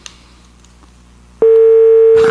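Telephone line on an unanswered call, a faint hum and clicks followed by a loud, steady tone that begins abruptly and holds to the end.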